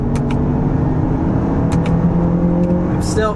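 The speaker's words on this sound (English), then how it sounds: "we'll try out some manual shifts here. Okay, third gear." Engine of a 2023 Lexus RX with a 6-speed automatic during a manual shift into third gear gives a loud, steady drone of road and motor noise from inside the cabin, with no sharp change.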